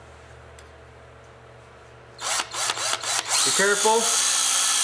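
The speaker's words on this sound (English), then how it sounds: "you're going to drill a hole on each side of this unit." A power drill bores holes through the sides of a metal dollar-store alarm unit, starting in short loud bursts and then running in a steady whine, close up, with a brief spoken warning beforehand.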